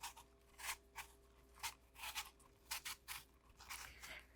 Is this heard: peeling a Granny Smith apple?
yes